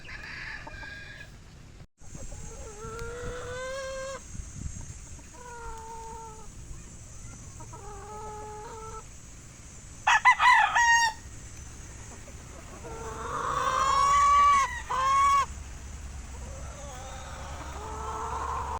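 Gamefowl on a farm: a rooster crows several times at moderate distance, with hen-like clucks and short calls scattered between, over a faint steady background hum.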